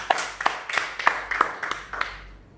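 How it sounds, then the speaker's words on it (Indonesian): A church congregation at a worship service claps in a slow, even rhythm, about seven distinct claps spread evenly over a couple of seconds, fairly close and without talk. "Mari kita beri tepuk tangan buat Tuhan."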